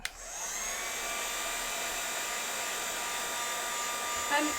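A heat gun blowing steadily over glue and sugar, a continuous high whirring hum from start to end, fairly close, starting with a click.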